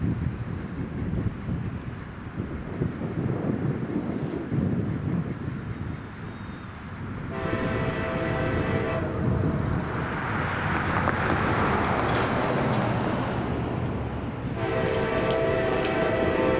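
A CSX freight train, Q198, led by an ST70AH locomotive, rumbles steadily past in Louisville, with loud broadband rolling noise and periodic bursts of tonal horn blasts joining the passing wagons.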